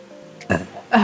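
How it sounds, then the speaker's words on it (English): A person burps twice in a kitchen while making Valentine's cookies, two short, close, throaty bursts, the second one louder, after a brief quiet moment. "Ugh, I need to burp."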